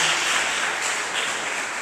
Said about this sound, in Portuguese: Dê uma salva de palmas, alegre para Jesus.